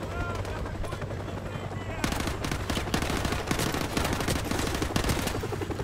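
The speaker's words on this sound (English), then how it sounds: "That helicopter would just go away." A helicopter drones steadily through a Modern Warfare Remastered firefight, nearly buried under rapid machine-gun bursts and gunfire that grow denser and louder partway through.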